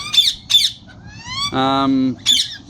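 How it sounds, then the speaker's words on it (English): A blue cock budgerigar and an Australian green cobalt hen squawk and chirp close by, sharp repeated calls broken by one longer harsh squawk, loud against a quiet background. "what we've got here is a lovely blue cockbird, and that green bird there, she's actually an Australian green cobalt"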